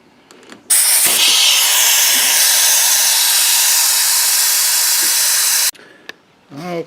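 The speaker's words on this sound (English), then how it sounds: "I'm working with a 6-gallon compressor, so I had to turn it off." Compressed air from a 6-gallon air compressor hose blasts out in one loud, steady hiss lasting about five seconds during a 2.5L Ford water pump job, with brief clicks and handling noises before and after.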